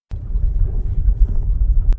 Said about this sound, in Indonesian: dari kejauhan terdengar suara gemuruh, seperti guntur yang tertahan.